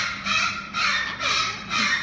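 A rescued bird named Rocky Valentine, mascot of an animal center, gives four loud, harsh, evenly spaced calls, each lasting about half a second, close by with nothing else heard.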